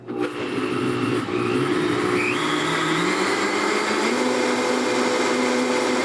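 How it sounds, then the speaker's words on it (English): Loud, steady whir of a blender running continuously on coffee, its motor pitch shifting slightly as the contents churn. "so it is in the blender, and it's ready to be blended."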